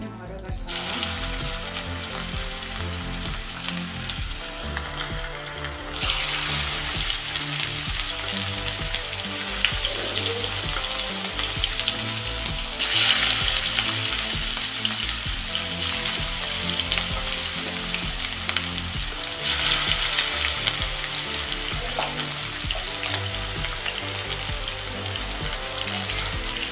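Chicken pieces fry in hot oil with curry leaves, giving a loud, steady sizzle and crackle that runs unbroken, swelling at times as pieces are moved.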